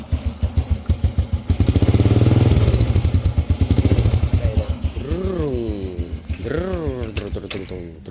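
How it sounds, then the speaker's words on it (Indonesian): A 2007 Honda Supra Fit motorcycle engine runs with a rapid, pulsing putter, revving up and down in waves, loud and close, with someone talking over it. "Supra Fit yang ini, kalau suaranya ya biasa aja, suaranya kayak diredam gitu."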